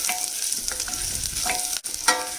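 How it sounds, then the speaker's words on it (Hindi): Chicken sautés in a pot for yakhni soup, a steady close sizzle broken by intermittent scraping stirs, with a brief dip near the end before the frying hiss resumes. "1 मिनट इसको सौटे कर लेते हैं।"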